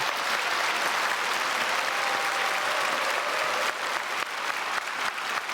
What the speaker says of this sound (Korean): 박수 한번 해주시면 감사하겠습니다.